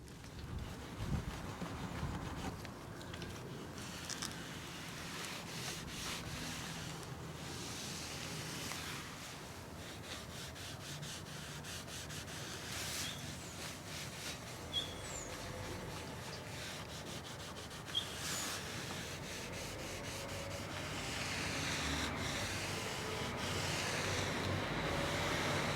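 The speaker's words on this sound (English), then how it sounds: "you can use a clean microfibre applicator instead to cover the surface more swiftly" Steady rubbing of a microfibre applicator spreading C4 trim restorer over faded plastic car trim, a continuous close scrubbing texture with no talk, growing slightly louder toward the end.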